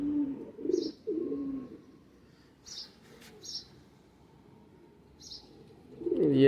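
Saleti kamangar pigeon giving a few soft, low coos close by, with faint chirps from other birds and a quiet background hum, swelling again near the end.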